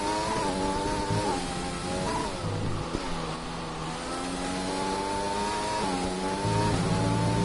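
Onboard engine note of a race car in a sim racing game at the Spain Grand Prix circuit, a steady mid-pitched drone with rising and falling revs through gear changes, continuous and close.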